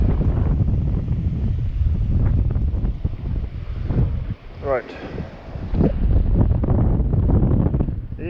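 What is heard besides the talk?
wind blowing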